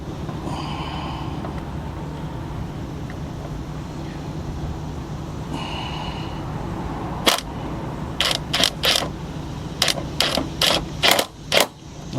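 Fasteners being tightened on a Mk V Jetta TDI fender: a steady mechanical hum gives way to a run of sharp, close ratchet-like clicks in quick bursts near the end.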